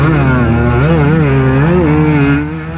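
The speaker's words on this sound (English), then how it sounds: "Just trying to get that 2-stroke singing." A 2-stroke motocross bike engine revs hard and close on a sand beach race track, its pitch rising and wavering in a loud, buzzing wail before easing off at the end.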